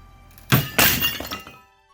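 A sharp cracking snap followed by a second louder crack and scattered clattering as a super glue joint gives way under about 15 pounds of weight, close and abrupt.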